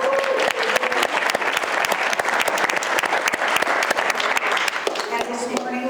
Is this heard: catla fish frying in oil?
no